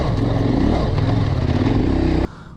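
A motorcycle rides hard over a run of holes on a soft sandy track in Morocco, its engine loud and close with jolting clatter, then it cuts off abruptly near the end.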